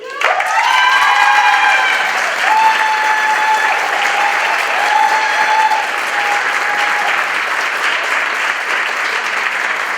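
A school board meeting crowd, including a middle school cheering section, breaks into loud, sustained applause for a staff member receiving tenure, with steady clapping and a few cheers lasting throughout.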